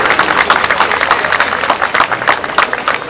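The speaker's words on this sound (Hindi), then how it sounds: "मैं चाहूंगा आप लोग जोरदार तालियां बजाएं और आपका स्वागत करें" A large crowd claps loudly and continuously at the inauguration of the Maharana Pratap sports ground, a thick, close wash of many hands with no pause.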